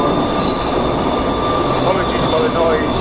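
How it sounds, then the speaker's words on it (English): Metro train running, heard from inside the carriage in Newcastle: a loud, steady rumble with sustained wheel-squeal tones that continues without a break. "as you can guess, I'm on the fucking metro."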